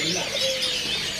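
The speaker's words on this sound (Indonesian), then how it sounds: "Selanjutnya di sini ada burung flamboyan." A flamboyan bird calls at a stall in a bird market, a short tonal note over a steady, busy wash of market noise.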